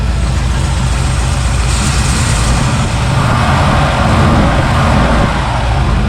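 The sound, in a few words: 1961 Pontiac Laurentian engine running after first start in 30 years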